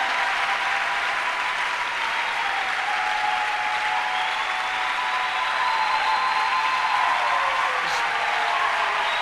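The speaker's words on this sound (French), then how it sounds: "Est-ce qu'on peut acclamer pour le pasteur?" A church congregation applauds a pastor during a worship service, steady dense clapping sustained throughout, loud and close with crowd noise mixed in.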